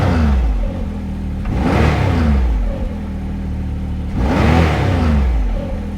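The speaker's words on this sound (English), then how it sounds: "you can hear a little bit of that turbo go off there at the end" A 2024 Can-Am Maverick X3 DS with an aftermarket GGB exhaust revs hard twice from idle, each blip swelling loud and close, with a turbo whoosh as the revs fall away.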